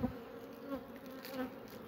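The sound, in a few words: honey bees buzzing around a hive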